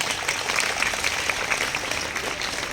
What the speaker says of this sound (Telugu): అందరూ ఒక్కసారి మనందరం కూడా వారికి బిగ్ క్లాప్స్ ఇద్దాం